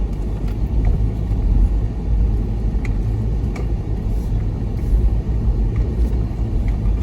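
A four-wheel drive climbing a hill track in rear-wheel drive in the Wonnangatta Valley, its engine a loud, continuous low rumble with scattered knocks and scrabbling from the terrain.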